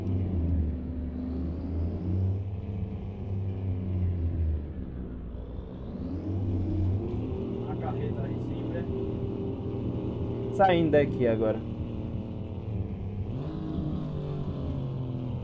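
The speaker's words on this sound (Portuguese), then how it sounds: "Barulho do caminhão é incrivelmente alto." Volvo FH 440 truck engine in Euro Truck Simulator, a steady loud diesel rumble running throughout with a brief higher-pitched burst near the end, under someone talking.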